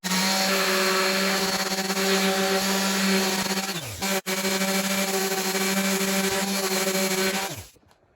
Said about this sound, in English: I'll put it in the sander